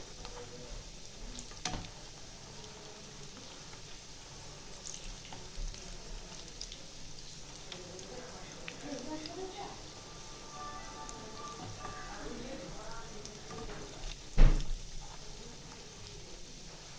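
Corn pakoras sizzle and crackle steadily in hot oil after being turned over, a continuous close frying hiss with a brief louder clatter near the end and no talking.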